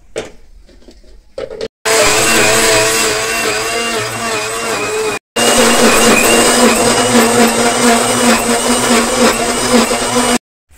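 A kitchen blender grinding juice with sugar and water, a loud steady motor whir that starts after a short quiet pause, cuts out briefly, then runs on continuously before stopping.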